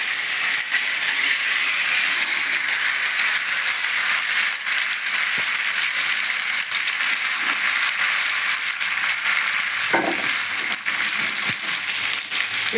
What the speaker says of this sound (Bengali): এবার তেলটা গরম হয়ে যাওয়ার পর আমি এই তরকারিটাকে দিয়ে দিলাম